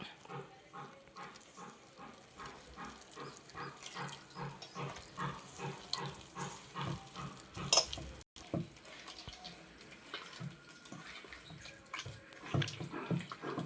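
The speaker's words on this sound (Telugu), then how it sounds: "ఇలా జారుగా కలుపుకోవాలి" Rhythmic wet squelching and sloshing as a thick boondi batter is stirred repeatedly with water to a runny consistency, close by and fairly quiet.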